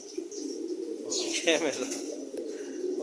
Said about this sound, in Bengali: যে একটা কবুতর আমার হাতে আসছে, দেখেন কি জানি বলতেছে আমাকে